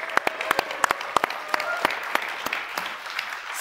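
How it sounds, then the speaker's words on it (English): Audience applause breaks out at an AMD product launch event, a steady wash of many hands clapping from a large crowd, sustained and fairly loud with sharp individual claps standing out. "I think we can clap for that."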